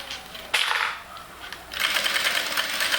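Sewing machine stitching a fabric Bible cover, running in two short bursts of steady mechanical whirring with a brief pause between, close and fairly loud.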